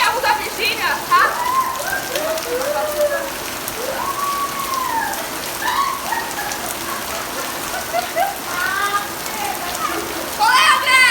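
Steady rain falls on a street, a continuous hiss of drops on wet surfaces, while children chatter and call out over it throughout.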